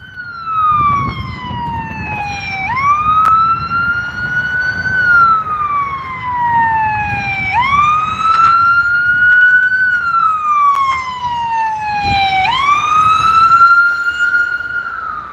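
An ambulance siren wails up and down in slow, repeating sweeps, loud and fairly close, with faint traffic rumble beneath.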